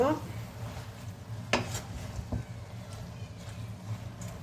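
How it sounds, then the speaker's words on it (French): Spoon stirring a pan of potatoes, spices and cumin, with scraping clinks at intervals over a low steady sizzle and a few sharper knocks. "Je mélange encore une fois tout ça."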